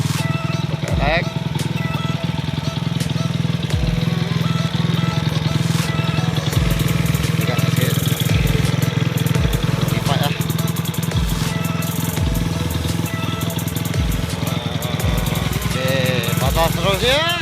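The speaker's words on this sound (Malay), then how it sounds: "Okey, ni pasal kita hidupkan dulu motor." A Honda EX5 cubcross motorcycle under restoration runs with a steady, close, putting engine note and occasional light revs. Someone talks over it throughout.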